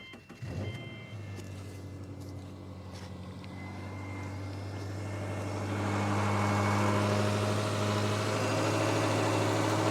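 A car engine cranks briefly and catches after a jump start from a Milwaukee M18 HotShot jump starter, then settles into a steady low idle that grows slightly louder and fuller, with no speech.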